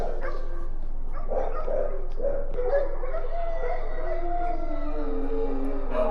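Several dogs bark and howl nervously around 4 a.m., a continuous overlapping chorus of howls and yips at moderate distance over a steady background hiss.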